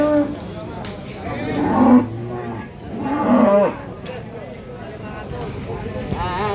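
A pregnant cow moos twice at a cattle market in Babat, Lamongan, each a long low call about a second and a half apart, close by, with people talking throughout.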